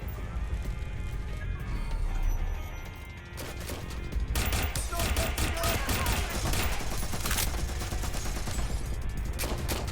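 Dense gunfire from the video game Watch Dogs Legion crackles in rapid bursts, easing briefly before a heavier stretch of loud, continuous shots, with game noise underneath.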